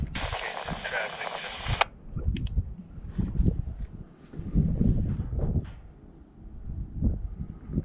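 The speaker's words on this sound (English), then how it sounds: "So I usually have this scanner on my headphones," Crackly railroad radio scanner chatter on the Arizona Peavine line: voices come through in bursts over hiss and static, with a squelch cutting off early on, all fairly close and noisy.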